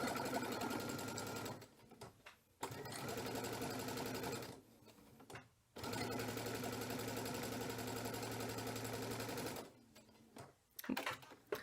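A sewing machine fitted with a felling foot stitches fabric in long, steady runs of fast mechanical whirring, broken by short pauses as the fabric is handled, with a close, even loudness.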